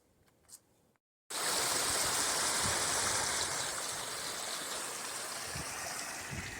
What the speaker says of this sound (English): Nice flowing spring,